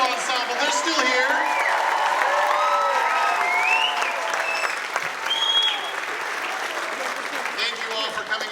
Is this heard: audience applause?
yes